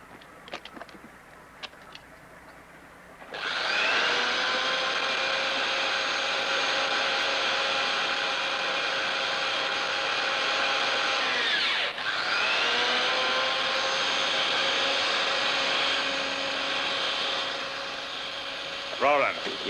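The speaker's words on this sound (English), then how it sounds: "Give me the drill" A power drill whines at a steady high pitch for about fifteen seconds, dipping once briefly, after a few sharp clicks and faint voices.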